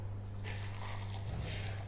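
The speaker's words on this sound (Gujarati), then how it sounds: "600 ગ્રામ ખાંડની સામે 1 લીટર પાણી એડ કરીશું।" Water is poured onto 600 grams of sugar in a pan to start a thin rasgulla syrup, a steady, soft splashing stream under a low background hum.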